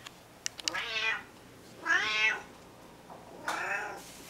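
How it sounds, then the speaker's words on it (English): A cat meows three times, loud and close, with plaintive drawn-out cries separated by short pauses. "She's not a happy kitty."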